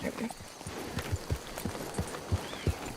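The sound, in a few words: horse hooves clip-clopping in video game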